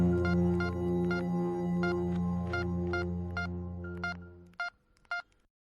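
Telephone number dialed as a radio drama effect, a run of about eleven evenly spaced touch-tone beeps over a steady hum, ending in a few separate tones after the hum stops.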